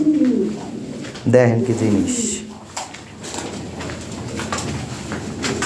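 Large, top-quality pigeons coo close by, with a rich throaty burst of calls near the start and softer murmurs after, while someone talks over them.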